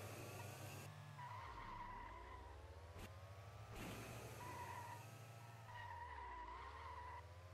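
A car in the Feather Party racing game skids and boosts with nitro, giving a steady engine drone with rising and falling whines and a sharp squeal in the middle, loud and with no voices.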